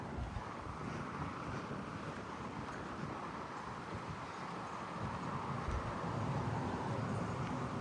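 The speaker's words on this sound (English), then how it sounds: "It's very windy." Strong wind buffets the microphone outdoors in a residential neighbourhood, a steady loud broadband roar with gusts swelling and easing throughout, no voices.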